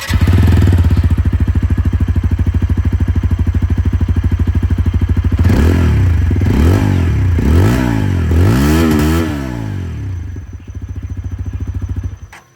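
A 2024 TVS Apache RTR 160 4V motorcycle with a bullpup exhaust idling loudly up close, a steady thumping rumble broken by several sharp revs that rise and fall, then settling back before cutting off.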